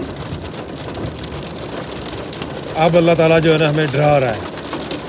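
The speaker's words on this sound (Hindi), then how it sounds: "हैवी वाली बारिश हो रही है, हैवी वाली।" Heavy rain pours steadily outdoors on a trip to Murree, a dense continuous hiss with a person speaking loudly over it partway through.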